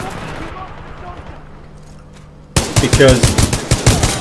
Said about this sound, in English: I think they need to put a cap on how fast you can fire this gun